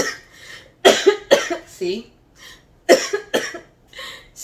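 A person recovering from Covid-19 coughs in two clusters of harsh, chesty coughs, each a few bursts long, loud and close, with a brief spoken word between them.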